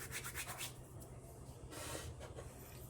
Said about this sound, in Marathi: ओवा क्रश करून घालायचा आहे त्यामुळे मी हातावर चोळून घेते